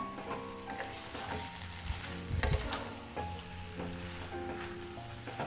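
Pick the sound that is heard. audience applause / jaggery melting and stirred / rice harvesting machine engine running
jaggery melting and stirred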